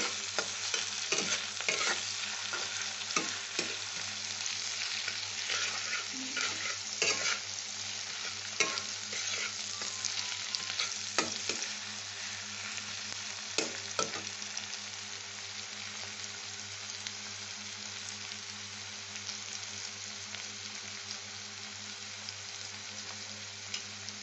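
Onions fry with salt in a pan, a steady hiss of sizzling oil broken by repeated scraping strokes of a spoon stirring, close and even throughout with no talking.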